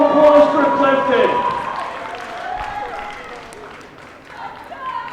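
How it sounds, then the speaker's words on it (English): An audience at a world classic powerlifting championship applauds an athlete. The broadband clapping fades gradually beneath an announcer talking over it. "Give me a big round of applause for Clifton."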